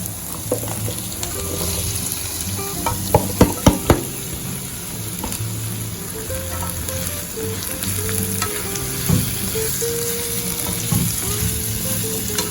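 Potatoes frying in oil for sambal ikan bilis get stirred in a pan, a steady close sizzle broken by several sharp scraping clacks of the utensil, with no talking.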